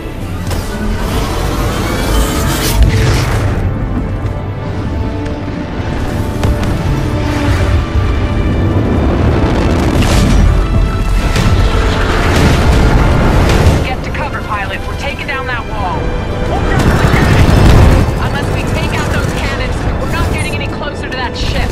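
Heavy mechanical impact and rumbling booms from a Titan landing in the video game Titanfall 2, loud and sustained with a big surge near the end, mixed with continuous game noise and radio voices talking over it.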